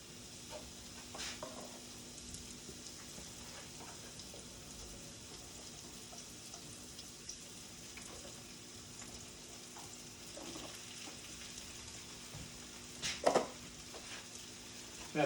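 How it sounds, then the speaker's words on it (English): White, cremini and shiitake mushrooms saute in pans with a faint, steady sizzle and occasional soft clinks from stirring. "We're going to saute those up for our risotto later."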